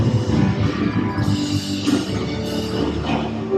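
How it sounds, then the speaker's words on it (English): Loud, dense crowd din from a cruise ship embarkation celebration aboard Utopia of the Seas, a steady wash of many voices and music-like tones that holds throughout. "a lot of noise, a lot of celebration."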